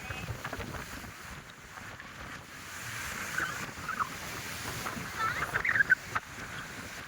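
Sea waves at Kanyakumari wash in a broad, steady rush mixed with wind buffeting the microphone, surging slightly louder toward the end, with faint voices in the background.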